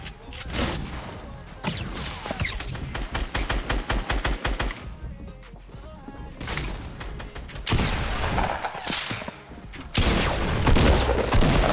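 Fortnite Battle Royale gunfire rattles in rapid automatic bursts and scattered single shots, loud and close, broken by brief pauses and mixed with game effects.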